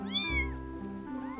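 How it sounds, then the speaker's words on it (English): Newborn kittens cry with thin, high, wavering meows, one drawn-out call followed by a softer second one, close and clear with no other sounds. "He could hear the kittens crying."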